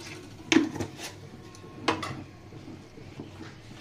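A spoon clinks against a pot while stirring binni rice payesh cooked with date palm juice, two distinct metallic knocks among softer scraping sounds, close and unaccompanied by talk.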